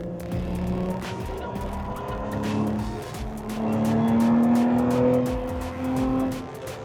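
A race car's engine note rises and falls as it overtakes on the Nürburgring Nordschleife, heard from inside with a steady mid-pitched whine climbing through gears and occasional tire noise.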